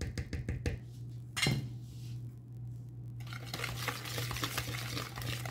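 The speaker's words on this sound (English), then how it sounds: "And then you'll whisk everything together really well." Protein pancake batter being whisked in a bowl, a few sharp taps on the rim followed by a steady, soft, wet scraping swirl that carries on close and alone.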